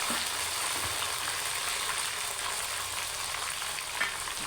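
Tomatoes and chilies frying in a pan give a steady, close sizzle with faint crackles, and no voices.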